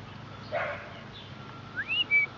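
Young puppies give faint, thin whimpers and a rising squeaky whine, soft and close in a quiet room, a couple of brief high cries near the end.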